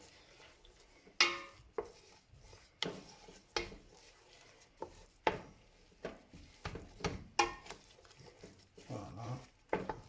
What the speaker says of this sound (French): Je vais mélanger un petit coup.